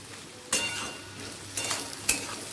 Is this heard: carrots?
yes